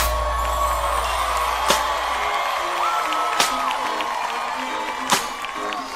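A live hip-hop concert crowd at a 2011 show claps and cheers, with three sharp handclap bursts spaced a couple of seconds apart over a steady roar of whoops and shouting.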